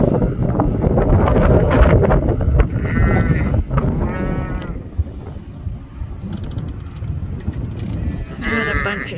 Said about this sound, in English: We had a bunch of sheep here instead of going inside.